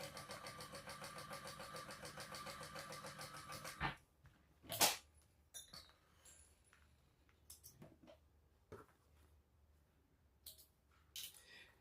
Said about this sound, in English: we can sew across the top just to baste it at a 1/8 of an inch seam allowance